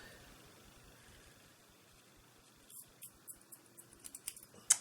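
Scissors trimming loops of toilet paper for paper flowers. About ten quick, quiet snips come in close succession near the end after a faint, hushed lead-in.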